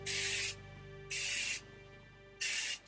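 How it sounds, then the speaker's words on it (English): Three separate bursts of hairspray from an aerosol can misted onto curly hair, each lasting about half a second with short pauses between, close and fairly loud with no talking. "you can go in with a bit of hairspray if you like."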